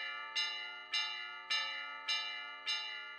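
Five evenly spaced strikes of a church bell for Holy Week, each ringing clear and resonant with a long decaying hum, loud and alone.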